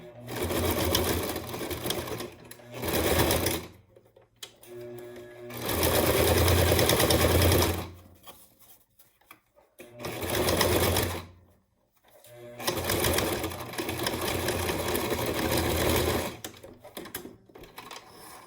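A sewing machine stitches fabric for a surgical mask in several loud, close runs of rapid mechanical clatter, split by short pauses, including a brief reverse to back-stitch the seam.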